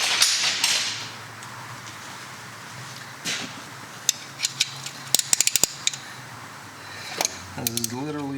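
A ratchet works the valve cover bolts on a Kia engine, with quick bursts of sharp clicking at close range, a few metallic clinks and scrapes, and a short stretch of talking near the end.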